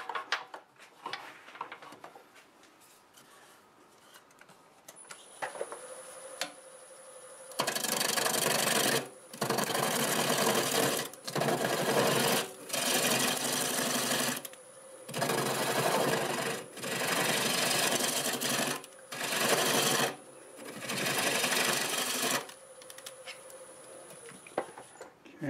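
A bowl blank turns on a wood lathe while a tool flattens its bottom, cutting in repeated loud, rasping bursts with short pauses between, over a steady motor whine, close up and without talk.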